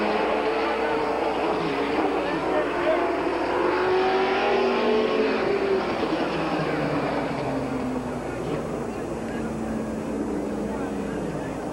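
Stock cars race the first lap at Midvale Speedway, a dense, continuous roar of many engines with rising and falling pitch sweeps as cars pass, loud throughout beneath a race announcer's voice.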